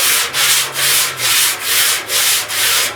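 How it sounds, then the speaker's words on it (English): Hand sanding of body filler on a patch-panel rust repair on a 1969 Chevrolet C10 front fender, sandpaper riding lightly over the filler in steady back-and-forth rasping strokes, close and loud, about six even passes with no talk. "I'm just letting the sandpaper ride across the filler."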